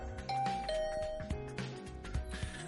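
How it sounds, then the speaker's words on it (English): A doorbell chimes at a dormitory room door in the video game The Hundred Line, its bright tones ringing out over a busy musical background with no voices. "I rang the doorbell to Tsubasa's room."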